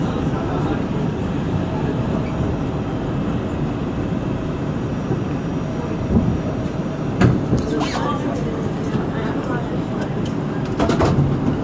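R142 subway train running as a Manhattan-bound 4 train, a continuous loud rumble and rattle of wheels on track heard from inside the car, with clanks and squeals near the end and announcement voices present.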